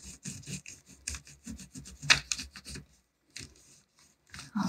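Crayon scrubbed flat-side back and forth on paper laid over a leaf, a close, rhythmic series of dry rubbing strokes that pause briefly near the end before resuming.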